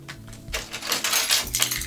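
Loose coins dropped into a small tan or medium black shopping bag, a short close-up jingle of metallic clinks and rattles settling over about a second.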